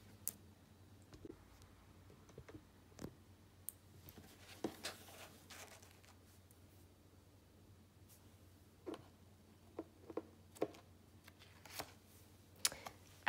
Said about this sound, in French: je vais vous tirer une petite carte de celui-ci